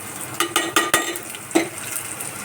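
Ground spices (chili powder, turmeric and coriander-cumin powder) being stirred and sautéed in a pan for bread cutlet filling: several scraping strokes and light clinks of a utensil against the pan, close and moderately loud, over a soft frying hiss.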